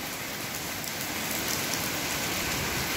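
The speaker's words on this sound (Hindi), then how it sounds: "बहुत ही तेज बरसात है दोस्तों" Heavy rain pours down in Sirsa, Haryana, a loud unbroken hiss of drops pattering on surfaces close by, growing slightly stronger over a few seconds with no talking.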